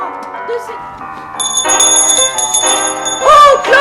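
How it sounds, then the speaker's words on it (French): Bright bell strikes ring out with a crystal-clear, sustained tone, several chimes layered over one another while a voice speaks alongside them. "Oh, cloche! Au son cristallin!"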